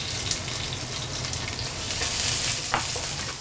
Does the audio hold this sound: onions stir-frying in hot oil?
yes